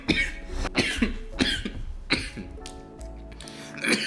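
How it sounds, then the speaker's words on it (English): Several coughs in a row from one person close up, sharp bursts with short pauses between them and a little throat noise. "I definitely coughed a little bit more in this video than I have in previous ones"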